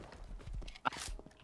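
A horse's hooves clip-clopping in the Rust video game, a few quick muffled hoof thuds with a brighter knock partway through, heard close over low game background noise.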